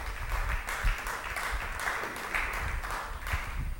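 A congregation at a religious gathering breaks into sustained applause, a dense wash of many hands clapping together at moderate distance, with no voices standing out.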